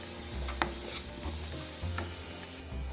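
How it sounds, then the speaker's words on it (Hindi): Dal makhani stirred in a pot after kasuri methi and garam masala go in, a spoon scraping and swishing through the thick lentils with a soft sizzle underneath, a few distinct clinks and strokes over three seconds, close and steady, no talking. "स्टिर करते हैं।"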